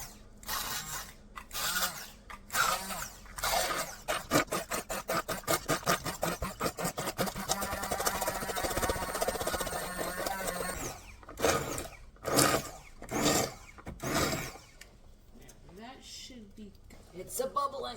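Immersion blender whirring through mulberry jam in a pot, running in bursts with a long continuous stretch in the middle and choppy pulses at the start and end.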